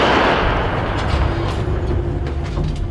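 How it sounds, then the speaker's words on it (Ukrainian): A Czech DITA self-propelled howitzer fires, a heavy artillery blast opening with a deep boom, then rumble and echo roll out and fade over the next few seconds. "32 секунди на розгортання та перший постріл"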